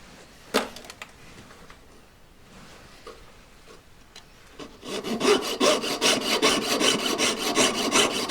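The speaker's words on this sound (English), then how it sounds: "Very gently, with very little weight on it at all, start sawing." Jeweller's saw cutting metal at a workbench: a few light taps and scrapes at first, then steady rapid back-and-forth rasping strokes that grow louder and continue evenly, close up with no talking.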